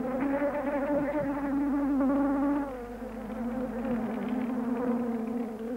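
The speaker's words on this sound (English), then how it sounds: "In Mývatn was the scene of a great feast of millions of insects on us." A dense swarm of insects buzzes at Mývatn, Iceland, a steady droning hum of countless wings that stays close and loud throughout, dipping slightly midway before swelling again.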